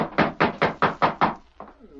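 A hand knocks on a wooden door in a steady series of six firm raps, close and loud, followed by a softer pair of knocks.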